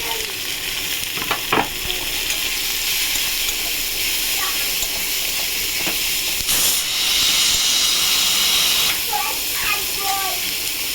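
Onions sizzle and hiss steadily in hot oil for a katla fish curry, with occasional scraping stirs and clinks of a utensil against the pan.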